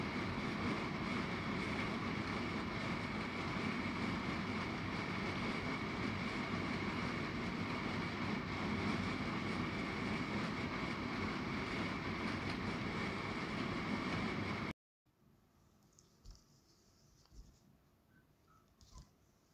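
A sewing machine stitching strips of leftover fabric scraps hums with a steady, continuous mechanical whir for about fifteen seconds, then stops abruptly, leaving a few faint, quiet handling sounds.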